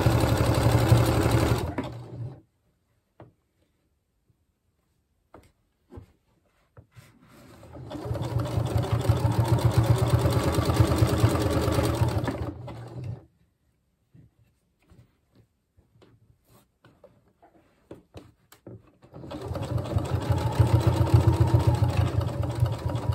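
A sewing machine runs a zigzag stitch over elastic on a dress seam, whirring loudly in three separate runs with quiet pauses, small handling clicks and no talking in between.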